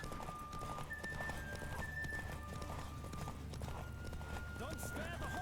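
Rapid hoofbeats of a horse in The Witcher 3: Wild Hunt clatter in a steady galloping rhythm, with whinnying over continuous background game sounds and music tones.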